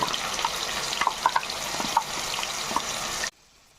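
Masala paste and onions fry in a pan for crab curry, giving a steady sizzle dotted with small pops and stirring clicks before it cuts to near silence.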